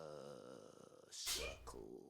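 A game character in Final Fantasy XVI lets out a single loud sneeze partway through, breaking off from steady spoken dialogue that runs before it.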